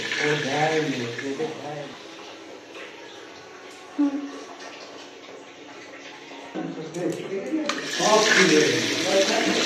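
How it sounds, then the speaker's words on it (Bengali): Water gushes steadily from a newly repaired household tap, a broad continuous splash close by. People talk over the start and end of it. "এরম স্পিডে আগে জল পড়ছে।"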